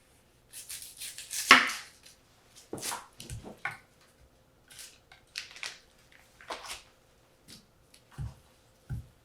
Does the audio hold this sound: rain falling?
no